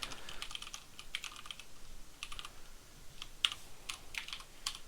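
Computer keyboard typing in short, irregular bursts of clicks, with several clear pauses in between. The keystrokes are fairly close and moderately quiet, and no one talks over them.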